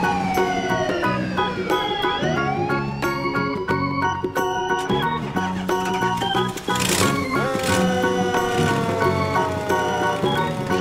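A police car siren wails continuously in a cartoon-style street scene, its rising and falling tone sweeping loudly over a busy background of music and effects, with no talking.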